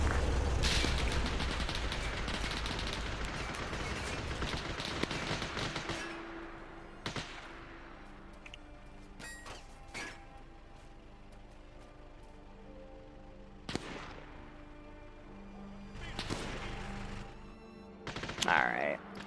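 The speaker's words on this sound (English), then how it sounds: "Those guys are gonna hear those gunshots." Gunfire in Arma 3, in a 1939 Winter War scenario, starts as a heavy, rumbling barrage, then thins to scattered distant shots and thuds spaced several seconds apart.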